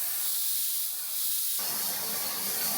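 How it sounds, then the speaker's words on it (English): A harsh, steady hiss of a plasma cutter cutting a hole in steel for a spacer on a dump truck build, jumping louder and brighter halfway through as the arc bites into steel; no voices. "Now I'm going to try to use the plasma to cut a hole big enough"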